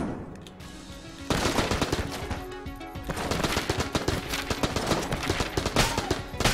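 Rapid, loud bursts of AK gunfire from the video game Enter the Gungeon, dense repeated shots that pick up after a brief lull and keep firing almost continuously.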